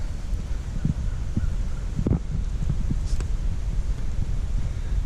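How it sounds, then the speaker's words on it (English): Outdoor wind blows steadily on a windy spring day in Alabama, a continuous breezy rumble against the microphone with a few faint knocks and distant bird sounds mixed in. "I guess you can tell it's a nice, beautiful, windy day here in Alabama"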